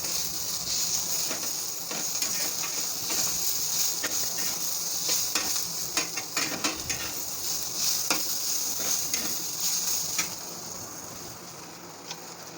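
Onion fries in hot oil with a continuous close sizzling hiss, scattered with crackling pops and occasional stirring clicks, fading slightly toward the end.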